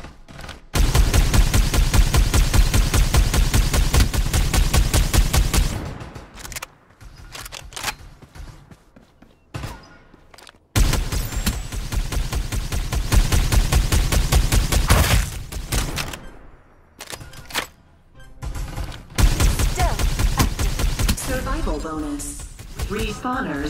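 Rapid automatic gunfire rattles in long sustained bursts during a Farlight 84 battle-royale match, loud and close, broken by short pauses, scattered single shots and brief game voice lines.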